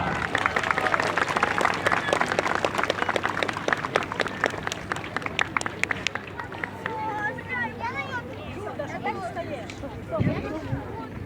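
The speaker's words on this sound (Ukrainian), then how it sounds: "Оплески, будь ласка!" Spectators at a festive parade in Ukraine applaud soldiers from the anti-terrorist operation in the east, brisk crowd clapping for about six seconds that fades into chatter and voices under a steady low hum.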